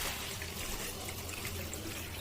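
Water pours steadily into a pan of chicken being cooked with chilli and garam masala, a continuous close trickling splash running the full length with no talk.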